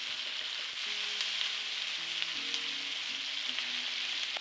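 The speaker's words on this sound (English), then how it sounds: "Add the onions. Cook until this onion starts to soften." Onions fry in a pan with a steady, close sizzle and occasional stirring, while faint background tones run underneath.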